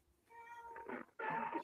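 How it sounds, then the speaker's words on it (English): A hungry cat meows twice, close and fairly loud, the second call longer and rising after a short pause, with no one talking. "meowing works eventually"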